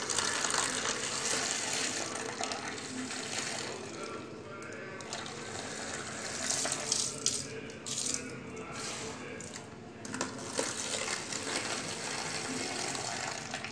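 Water pours and gushes steadily into a container of homemade detergent powder solution, working up foam; a continuous, moderately loud splashing wash with brief louder surges throughout.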